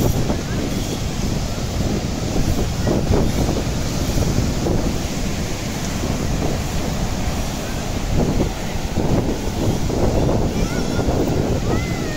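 Steady roar of Arabian Sea surf rolling onto a Konkan beach near Ganpatipule, loud and continuous, heavily buffeted by wind noise across the microphone.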